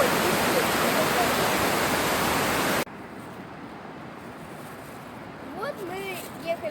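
A mountain river in the hills of Kabardino-Balkaria rushes loudly as a dense, steady roar, then drops abruptly to a quieter flowing hiss with a few voices talking near the end.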